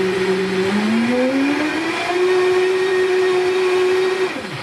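Hummus ingredients and extra virgin olive oil whir in an electric blender, a loud close motor that rises in pitch as it spins up, holds steady, then cuts off near the end.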